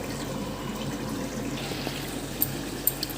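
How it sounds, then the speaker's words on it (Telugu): Water runs steadily into a pot of cooking chicken at close range, a continuous liquid wash with a few small clinks near the end. "ఒక అర గ్లాస్ వాటర్ పోసుకుందాం ఫ్రెండ్స్"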